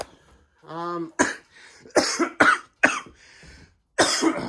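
Several sharp, close coughs in an irregular series, with a brief voiced sound early on and short pauses between bursts.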